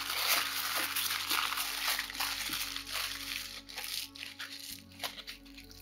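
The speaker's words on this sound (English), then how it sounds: "I'm gonna crumple them up," Paper or similar craft material being crumpled by hand into stump-like legs for a DIY Elden Ring mausoleum model, with a continuous close crinkling and crackling that rises and falls in short bursts.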